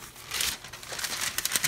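Paper being pressed down into a baking pan, a close, soft crinkling and rustling with a few sharper crackles toward the end, heard alone.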